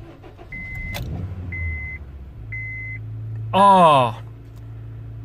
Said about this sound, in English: when I try to start the engine, which I'm gonna do now.